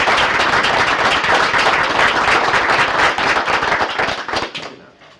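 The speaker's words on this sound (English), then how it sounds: "Would the two of you please stand so that we can give you a round of applause?" Audience at a college board of trustees meeting claps for two honored students, a steady, loud round of applause that tapers off at the end, no talking over it.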